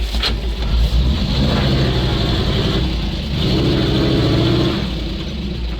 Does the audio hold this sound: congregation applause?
no